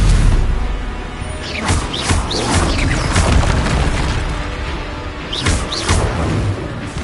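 Explosive Confringo spell blasts in a Harry Potter video game, with loud booming bursts and whooshing crashes that roll on continuously through a noisy combat scene.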